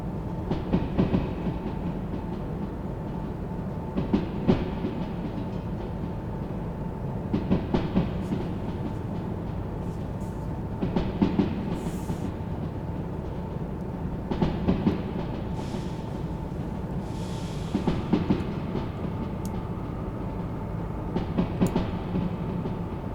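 A train in the Derail Valley game coasts with its power cut off, a steady low rumble of wheels on rails with regular clickety-clack joints passing every few seconds, no talk.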